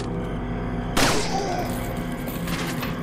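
A sudden loud burst of gunfire in Resident Evil 4 erupts about a second in, followed by a lingering rumble and further crackling shots over a steady game soundtrack.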